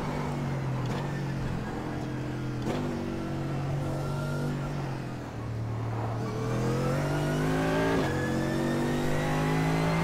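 A Mercedes-AMG GT3 race car engine at Mount Panorama in iRacing drones loud and steady, its pitch climbing through gears with brief dips at each shift, heard alone.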